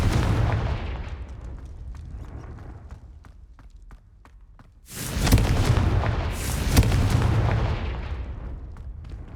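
Confringo spell blasts in Hogwarts Legacy boom loudly in a rumbling series with sharp cracks, fade into a short lull, then erupt again in two heavy explosive surges; nobody speaks.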